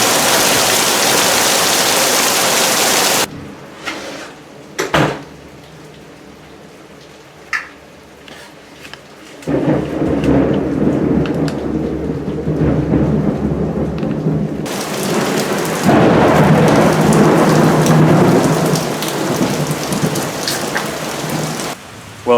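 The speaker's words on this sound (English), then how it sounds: "Holy cow, it is coming down." Heavy rain pours down loudly with deep rumbles of thunder, easing briefly in the middle before the downpour surges again.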